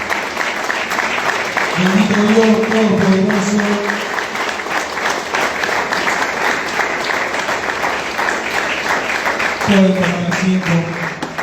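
A church congregation claps in sustained, dense applause that fills the space, while someone speaks over it at the start and again near the end.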